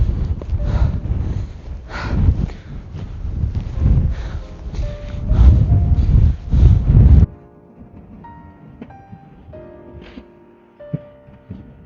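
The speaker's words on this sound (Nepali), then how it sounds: "हावा त अघिदेखि यस्तै डेन्जरै चलिरहेछ" Strong wind on a mountain trail near Pikey Peak buffets the microphone with loud, gusting low rumbles for about seven seconds, then drops away abruptly to a much quieter background.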